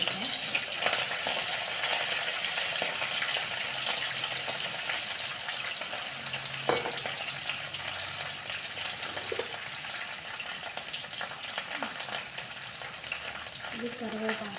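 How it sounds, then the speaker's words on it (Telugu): Green chillies sizzle and crackle in hot oil for lemon rice, a steady bright frying hiss with occasional stirring clinks, close and continuous throughout. "ఆయిల్ అయితే వేడైంది, పచ్చిమిర్చి వేస్తున్నా."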